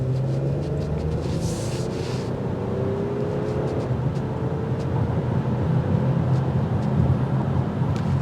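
A 2024 Toyota Camry XLE with a V6 engine drives along, giving a steady low engine and road drone with tire rumble heard from inside the cabin and no talking.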